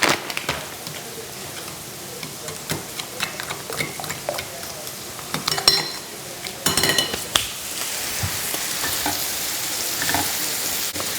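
Onions and mushrooms sizzle in a pan with meat, a steady frying hiss broken by scattered scrapes of a utensil and light clinks against the pan, with no one talking.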